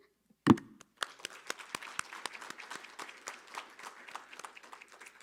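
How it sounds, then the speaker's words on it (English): An audience at a labour event in British Columbia applauds community sponsors. A sharp thump comes first, then scattered claps that thicken into moderate, fairly sparse applause, heard alone. "please give a great round of applause to our community sponsors"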